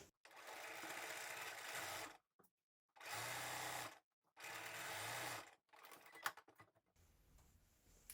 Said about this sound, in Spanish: vamos a coser el otro hombro y luego lo voy a dejar remallado también y planchado hacia la espalda